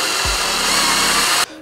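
A power drill boring holes into PVC pipe for a DIY aquarium overflow, a loud, steady whine that runs nearly the whole time before cutting off abruptly near the end.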